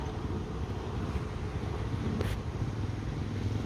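Honda TMX 125 motorcycle engine idling after repair, a steady low rumble with no clear gaps, close and moderately loud, mixed with wind-like noise.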